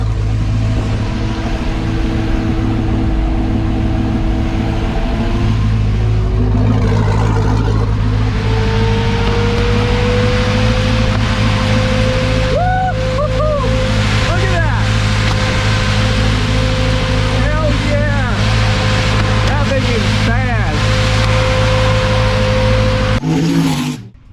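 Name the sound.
brushless Camaro electric cooling fan running at full speed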